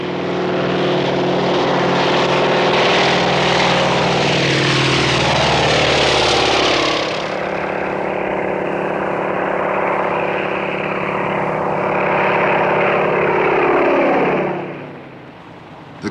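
A de Havilland Beaver bush plane's propeller engine drones loudly and steadily throughout, its pitch shifting partway, then fading slightly at the end with no voices.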